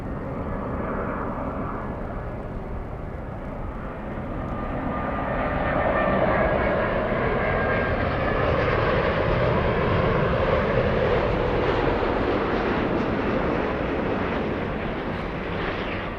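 Jet airliner taking off from LAX runway 24 left, a loud broad roar that swells and holds with a rising whine, heard from a distance and continuous throughout.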